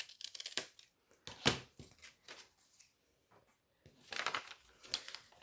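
Scissors cutting through paper bag journal pages to trim off a small triangle, a few crisp close snips and rustling paper crinkles in short bursts separated by quiet pauses.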